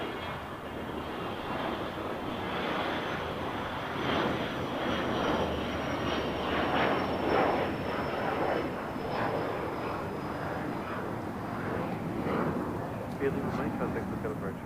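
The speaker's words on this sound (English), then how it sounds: "Air China, the 777, now pushing back." Air China Boeing 777 pushing back at LAX, a steady whining jet engine hum with rumble, swelling slightly midway, heard at a moderate distance with a voice talking over it.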